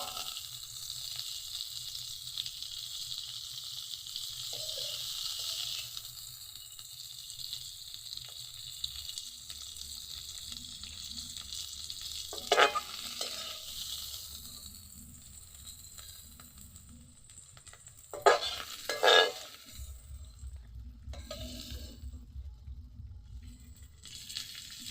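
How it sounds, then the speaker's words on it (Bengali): Cauliflower florets fry in oil until browned, giving a steady close sizzle with occasional stirring scrapes and clatters, then quieter crackling and a few sharp clinks near the end. "কপি লাল লাল করে ভাজা হয়ে গেছে"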